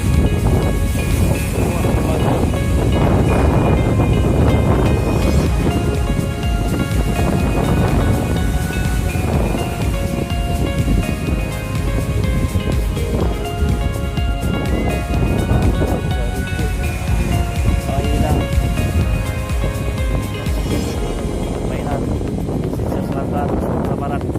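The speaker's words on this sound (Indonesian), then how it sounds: "anginnya berembus kencang" Strong wind and crashing surf at Jarum beach in Painan, West Sumatra, a loud continuous roar of waves and gusts buffeting the microphone throughout, with a voice talking over it.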